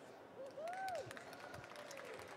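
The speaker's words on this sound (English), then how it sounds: "I want you, before we get started, to help me give a round of applause to James up here." Faint crowd applause continues steadily, with a brief whistle rising and falling early on.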